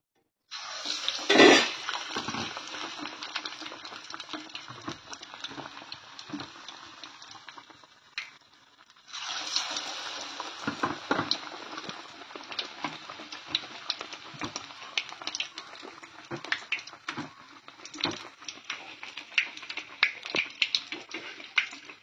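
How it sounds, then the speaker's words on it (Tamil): Plantain bajji fritters frying in hot oil at a tea-stall-style stove, a steady bright hiss and crackle with a loud splash-like burst early, a brief lull, then continuous sizzling bubbling. "2 சைடும் நல்லா போட்டு பரட்டி எண்ணெய் காஞ்சிட்டு எண்ணெயில் போட்டுக்கிறேன்."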